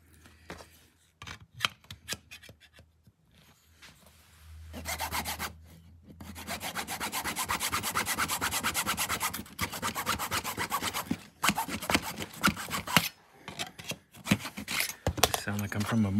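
A small piece of wood being cut at a 45-degree angle for a miniature table, with bursts of rapid, rasping hand-saw strokes, a long steady sawing run in the middle and scattered taps between, close and fairly loud.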